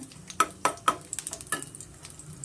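Almonds fry in hot ghee on a medium flame while making sweet vermicelli sajjige, a soft steady sizzle punctuated by several sharp spoon-against-pan clinks as they are stirred, close up and with no talking.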